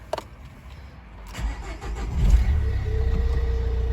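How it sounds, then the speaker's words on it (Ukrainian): A 2008 Nissan Qashqai 1.5 dCi diesel engine with 182,634 km cranks briefly and catches, then settles into a steady, low rumbling idle that continues to the end. "одразу заведемо автомобіль"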